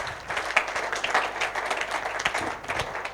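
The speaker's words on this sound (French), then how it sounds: "Cela s'applaudit encore une fois." An audience applauds a laureate receiving a double prize at an award ceremony of an African meeting of grandes écoles and businesses in Abidjan, a dense, lively round of clapping with a few sharper claps standing out.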